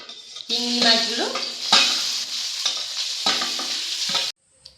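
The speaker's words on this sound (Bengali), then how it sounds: "ওই তেলের মধ্যে ভেজে নিচ্ছি চিংড়ি মাছগুলো।" Shrimp frying in hot oil crackle and sizzle loudly up close, with repeated stirring scrapes and faint utensil clinks against the pan, before cutting off abruptly into near silence at the end.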